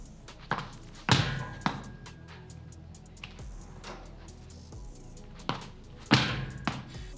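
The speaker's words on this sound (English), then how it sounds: "the next exercise is rotational med ball slams, but starting from the knees" A medicine ball is slammed repeatedly from a kneeling rotational position, about six loud thuds at irregular intervals of one to two seconds, close to the microphone, with softer bounces and shuffling in between.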